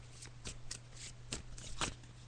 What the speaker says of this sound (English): Michelle, just shuffling the cards now.